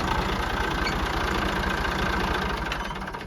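A tractor engine runs with a steady, throbbing low chug and a fairly loud, close rumble. It fades slightly toward the end, with no voices.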